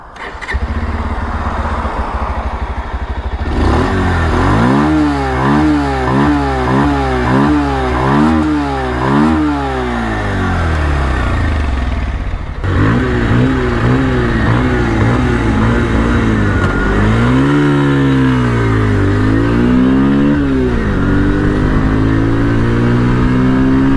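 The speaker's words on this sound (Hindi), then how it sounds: "सो पहले इसकी एग्जॉस्ट की आपको मैं साउंड सुना देता हूँ" A 2023 Bajaj Pulsar 150 OBD motorcycle idles, then its exhaust revs repeatedly in rising and falling bursts, loud and close, with a steady engine drone underneath and no talk.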